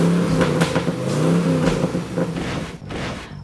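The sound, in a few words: hot rod car engine revving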